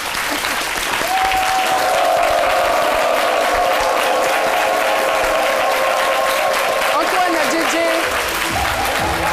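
A studio audience on a French midday TV show gives loud, sustained applause as a guest, Antoine Djedje, is introduced, a dense roar of clapping mixed with some cheering that continues for the whole stretch.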